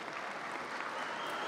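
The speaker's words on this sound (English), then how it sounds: "Please give these young men a round of applause." Audience applause for the football players at a high school commencement ceremony, a brief wash of steady clapping from a large crowd with no voices over it.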